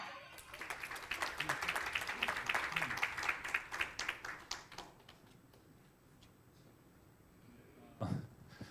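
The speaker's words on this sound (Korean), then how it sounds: "방금 그 박수는 이제 저한테 쳐주신 박수가 아니죠" An audience at a university history department's 70th anniversary talk concert claps, with steady applause for about five seconds that thins to scattered claps and then fades out.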